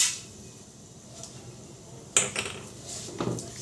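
Spices stirred in hot oil in a pot, quiet at first, then a spoon scraping and clinking against the metal in a few short, close strokes.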